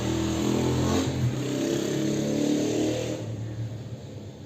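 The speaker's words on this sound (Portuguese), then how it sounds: "Deixa a moto passar, né?" A motorcycle engine drones past nearby, loud and steady, then fades as it moves away.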